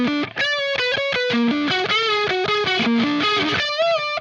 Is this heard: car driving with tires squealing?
no